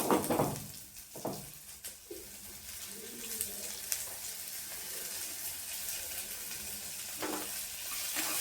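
Onions and tomatoes fry in a home kitchen pan for a bitter gourd curry, giving a steady soft sizzle with a few louder clatters of stirring near the start and end, and no voices.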